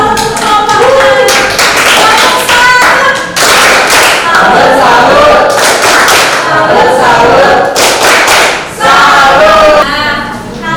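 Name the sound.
class applauding a group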